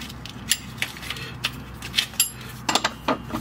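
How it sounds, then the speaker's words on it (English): An 18 mm socket on a ratchet tightens a nut during fuel sending unit and rear control arm work on a 2005-2010 Jeep Grand Cherokee, giving scattered sharp clicks and short ratcheting bursts over a low background hum. "we're gonna hold it with the wrench and tighten it up with the 18 millimeter"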